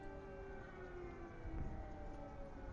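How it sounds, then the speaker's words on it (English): Civil defense air raid sirens sound over Kharkiv, Ukraine, during an attack, a steady distant wail that holds at an even level throughout with no talk. "We're hearing air raid sirens over the city here"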